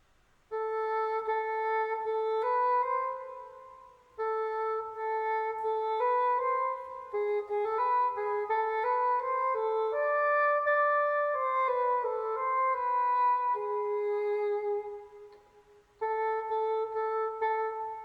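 A sampled double reed woodwind tone plays a short melodic phrase of repeated, evenly struck keyboard notes with brief pauses, sounding mechanical and identical on each attack.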